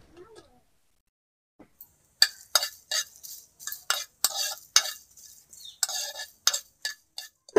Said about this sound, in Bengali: এর মধ্যে একে একে আমি দারচিনি, এলাচ, লবঙ্গ, সাদা জিরে একসাথে ভালো করে ভেজে নেব।